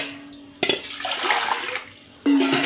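Water poured into a large cooking pot for rice-flour papad dough, two splashing pours with a gurgling, hollow rush between them, close by and without talk.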